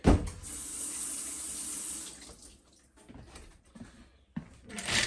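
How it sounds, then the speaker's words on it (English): Hands washed under a running kitchen tap, water splashing loudly into the sink for about two seconds, then the flow drops to softer trickles and intermittent splashes before rising again at the end. "let me wash my hand real quick"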